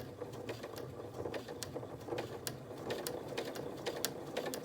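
A sewing machine runs continuously, stitching a curved seam through fabric for a face mask as the hand turns the cloth under the presser foot; a steady close mechanical whir with rapid needle clatter, no talking.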